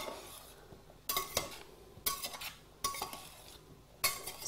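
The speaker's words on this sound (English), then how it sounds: "Now we shall stir it with a spatula. So we're bringing the potatoes back up." A spatula stirs simmering aloo gobi with potatoes and masala in a pan, giving four distinct scraping and clattering strokes at roughly one-second intervals, close and moderately quiet, with a soft simmer between them.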